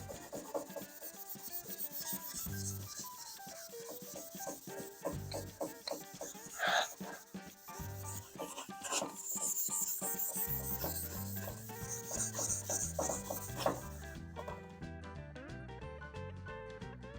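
A Scotch-Brite pad rubs across welded sheet metal on a roadster hood and cowl, giving a quiet, continuous scraping and scrubbing sound in uneven strokes, close by, with no talking.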